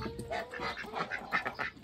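Ducks quacking in a backyard duck house under a trampoline, a small flock of four females and one male, their repeated calls overlapping at close range with no one speaking.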